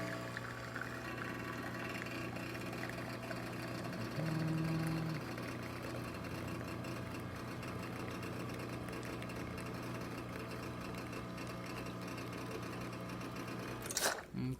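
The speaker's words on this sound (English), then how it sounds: "now we're gonna test it out. Starting with one shot of espresso" An ECM Giotto espresso machine pulling a single shot after a full tune-up, a steady loud pump hum and vibration droning throughout with a brief higher whine partway, ending in a short clunk.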